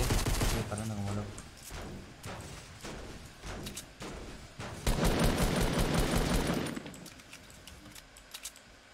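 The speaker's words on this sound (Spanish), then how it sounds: "Estoy disparando como loco." Fortnite gunfire crackling in rapid repeated bursts, dense volleys with short pauses, swelling into a sustained barrage midway before tapering off to scattered shots.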